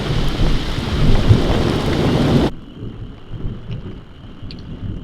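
Steady heavy rain with low rumbling thunder in Northern Ontario, loud at first, then dropping abruptly to a quieter patter with faint distant rumbles.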